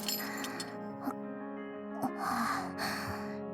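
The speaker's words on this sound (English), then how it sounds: "Instead, she's panting." Girl character in a visual novel video game panting, a few soft breathy gasps and exhales over a sustained musical background, faint and close with no other voice.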